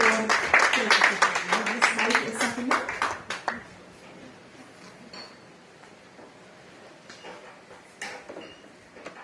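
Audience applause at a business hall of fame evening, a dense burst of clapping for about three seconds that cuts off and leaves quiet room noise with scattered claps and faint sounds.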